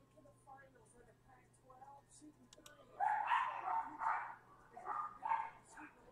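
Dogs bark indoors at close range, a run of loud, repeated barks and yips through the second half, following quieter background talk.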